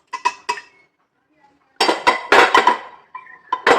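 Fried cashews and raisins tipped into milk in a pot, with clinks and clatters of a metal spoon and vessel in quick close bursts separated by a short silence.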